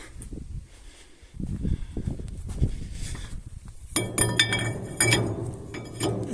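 A handmade metal flange is fitted onto the hub of a pumpkin combine harvester. Low handling knocks give way to a run of crisp, close metallic clinks in the second half.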